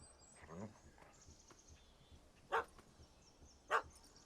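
A puppy in The Witcher 3 gives two short, sharp barks, spaced about a second apart, at a cat up a tree, with a faint game voice and ambient sound around them.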